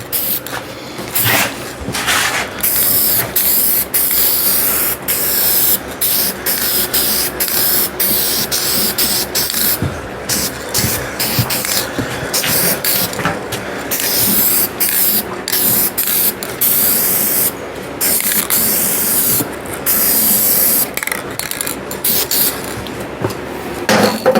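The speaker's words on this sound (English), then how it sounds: "the aluminumized paint, I'm going to paint it this color" Aluminum-colored paint sprayed from an aerosol can onto a steel dually truck rim, repeated hissing bursts separated by short pauses and clicks, close and loud, with no talking.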